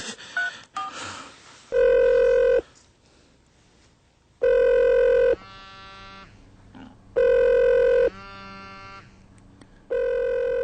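A phone rings in repeated electronic bursts, each about a second long with short gaps between, loud and close, with no one talking.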